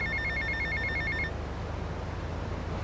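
A payphone rings in Little Havana in the video game GTA Vice City. A rapid electronic trill sounds in repeated bursts for over a second and then stops, leaving a low steady background hum. No one speaks.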